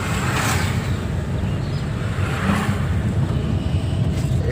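Car engine cruising in fourth gear during a driving lesson in Barasat, a steady low interior drone and road rumble heard from inside the cabin, continuous and even with no shifts.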